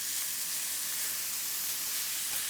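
Brussels sprouts with bacon and apple sizzling in a hot pan, a steady bright hiss and crackle of frying that holds evenly throughout, close and fairly loud, with no talking.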